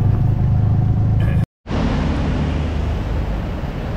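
Road traffic heard while riding a tuktuk near an expressway service road: a loud, continuous engine rumble and wind roar with passing vehicles, broken by a brief dropout, with no talk.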